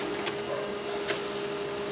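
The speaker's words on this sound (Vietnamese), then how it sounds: "Để coi xem máy in nó chạy sao nhé." An HP LaserJet Pro M15a laser printer runs while printing pages, giving a steady mechanical whir with a constant tonal hum and faint soft clicks, close and alone.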